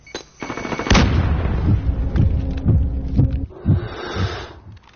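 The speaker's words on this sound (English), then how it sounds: "Throwing grenade." A game grenade explosion bursts in as a loud broadband blast, followed by a run of repeated booming gunfire-like thuds that continue through the rest of the moment.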